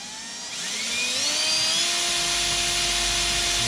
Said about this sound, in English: Let's drill the pilot.